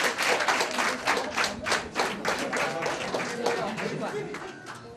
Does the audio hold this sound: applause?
yes